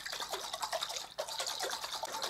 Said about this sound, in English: So I shake like this to get the air bubbles out and the bleach mixture to come in contact with all parts of the seed coat